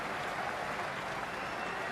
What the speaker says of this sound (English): standing and applauding a magnificent display of batting